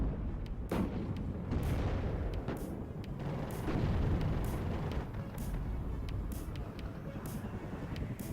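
Gunfire and artillery in the WARNO real-time strategy game, a dense continuous battle roar with repeated sharp shot cracks and low booms throughout, no voices over it.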